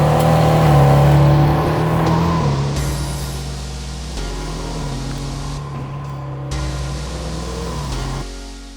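A Ferrari Challenge Stradale miniature car's engine revs loudly and steadily, a deafening droning buzz that climbs and settles through the clip, with brief surges and dips in pitch.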